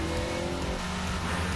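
A car engine accelerates hard in a broadcast commercial, loud and continuous, with a steady full-band roar over the whole moment and no talk.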